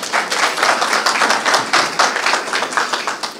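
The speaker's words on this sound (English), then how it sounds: "Are you clapping for me or the Minister?" Public budget meeting audience clapping, a fairly close, steady patter of many hands with a pulsing rhythm lasting a few seconds.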